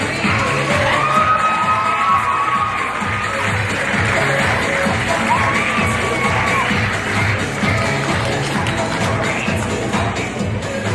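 At a high school Mr. Hoosac 2022 pageant, a crowd claps, cheers and whoops continuously, with children shouting and occasional bangs, loud and close throughout.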